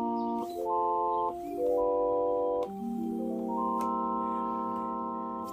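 Autoharp chords triggered from an Erae 2 controller, a series of sustained, evenly voiced chords changing about every second or so, clean and alone with no talk.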